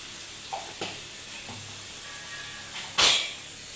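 Spice paste with turmeric frying in hot oil for a pointed gourd curry, a soft steady hiss with small crackles, then a sharper, louder sizzling burst near the end before it settles back down.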